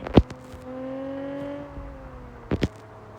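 Tyre burnout in the Car Parking Multiplayer video game: a sharp squeal at the start, then a steady engine drone with a rising whine that fades, and two more short squealing bursts near the end.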